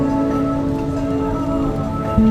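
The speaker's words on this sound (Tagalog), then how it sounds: "Naabot ng ulan." Steady rain hiss with a low rumble of traffic and motorcycles underneath, continuous and fairly loud throughout, on a street in Pasay, Philippines.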